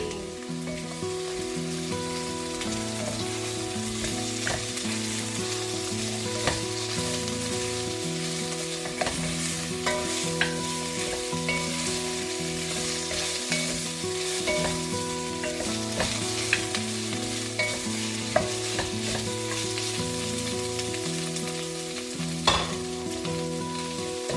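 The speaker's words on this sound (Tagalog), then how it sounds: "Medyo brown na siya. Ilolo na natin yung karne." Beef pieces browning for beef pares sizzle steadily in a hot pan while a utensil stirs and scrapes them, a continuous close, fairly loud fry with scattered clinks.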